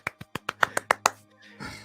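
Eight quick, sharp claps ring out in a steady, even rhythm close to the listener, followed by a brief softer rustle.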